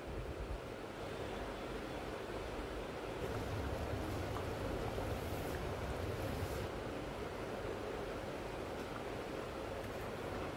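Chicken liver curry bubbling in a pot, a broad steady simmering hiss with soft bursting bubbles, fairly quiet and continuous, with no voices.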